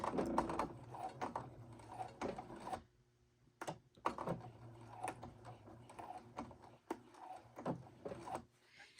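A sewing machine stitches a pant hem in quiet, separate bursts of whirring mechanical chatter, broken by short silent gaps and a few sharp clicks.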